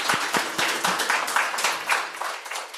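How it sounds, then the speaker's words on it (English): Clapping from an audience at an education symposium, a modest group of hands producing quick, distinct claps that continue steadily for a few seconds, moderately near and without speech. "A round of applause as we can."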